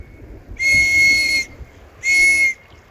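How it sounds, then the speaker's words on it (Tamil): A whistle fixed to a life jacket is blown twice, two loud, steady shrill blasts of about a second each with a short gap between them and no talking. "சப்போஸ் உங்களுக்கு யாரும் நீச்சல் அடிக்க தெரியலன்னா விசில் இருக்கு"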